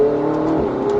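A Ferrari 488 GTB engine revs up steadily with a droning whine while accelerating, loud and close, over about a second.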